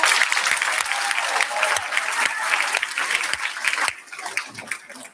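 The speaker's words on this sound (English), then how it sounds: "Let's give all of them a big round of applause." A school board meeting audience claps for student swimmers and dance team members, dense sustained applause from a room full of people that thins out toward the end.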